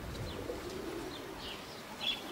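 Soft pigeon coos at a racing-pigeon loft as birds return from a competition flight, faint and intermittent over a low, steady outdoor background.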